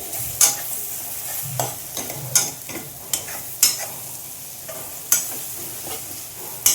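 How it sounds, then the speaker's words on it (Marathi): Pasta ingredients fry and sizzle in a hot pan, with a steady crackle broken by repeated sharp scrapes and clacks of stirring at irregular intervals, close and moderately loud, with no talking. "आता ना एवढं झालंय अजून थोडं फ्राय होऊन द्यायचं"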